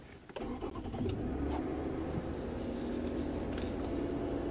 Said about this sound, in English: Right now the engine is not running, but I'll go ahead and start that for you